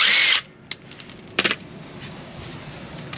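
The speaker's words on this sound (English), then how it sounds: "So I'm going to go ahead and take my impact" Impact wrench pulling 10 mm bolts from a plastic bumper piece during a Body Armor 4x4 Hiline bumper install: a loud opening burst, then a few short rattling bursts, fairly close.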